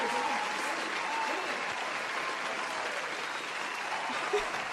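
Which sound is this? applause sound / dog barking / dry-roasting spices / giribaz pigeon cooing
applause sound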